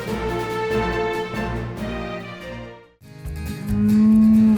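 Cattle low loudly and close by on pasture, one long sustained moo that breaks off and then returns with a deeper, rising bellow, with no talk.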